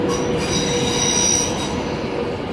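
Electric London Overground train at London Euston station on the West Coast Main Line, a continuous loud rumble with a sustained high steel-on-rail squeal of the wheels, heard close and alone.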